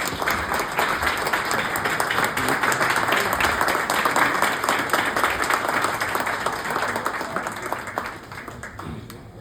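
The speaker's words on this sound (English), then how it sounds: "give a big round of applause for them" Sustained audience applause at a police lunch with Muslim community representatives, dense and steady clapping from a large room that holds for several seconds before thinning toward the end.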